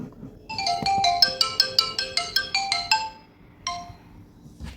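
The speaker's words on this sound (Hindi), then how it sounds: "एक सेकेंड, फ़ोन आ गया, लेट्स चेक किसका फ़ोन है।" A mobile phone ringtone plays nearby as a quick run of bright, evenly spaced electronic tones for about three seconds, then one more short tone after a pause, with no talk.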